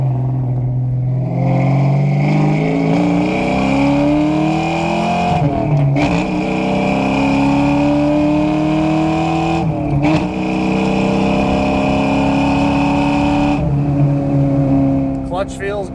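A 1994 Ford Mustang Cobra with a 5.0 engine, five-speed and Flowmaster exhaust, heard from inside as it accelerates with rising engine tones, dips at each shift, then climbs again, loud and continuous throughout.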